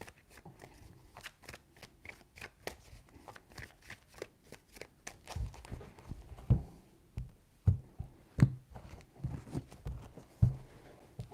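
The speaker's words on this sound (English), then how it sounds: "3 shuffles." Tarot cards being shuffled, with a long run of quick crisp riffling taps followed by several louder, separate slaps and flicks as the deck is handled, close and clear, with no talking.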